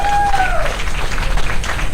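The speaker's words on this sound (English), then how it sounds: "Please, let's give her a round of applause." Dense, continuous applause from a conference audience fills the space, with a brief tonal sound fading out at the start.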